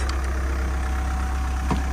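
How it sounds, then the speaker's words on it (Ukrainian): A VW Touran minivan engine idles steadily with a low, even hum, close and continuous, with no talking over it. "Так двигун працює гарно"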